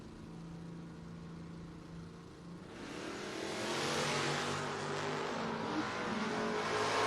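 Drag race cars, an Oldsmobile and an S10, launch and roar down the track at a drag strip; quiet engine hum swells into a loud, sustained high-revving blast that holds to the end.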